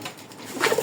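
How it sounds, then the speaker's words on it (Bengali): A white Bombay pigeon, an oversized male with red beak and eyes, gives a short soft coo near the end, close by over a faint background hiss. "বোম্বাই কবুতর দেখায়, হোয়াইট বোম্বাই।"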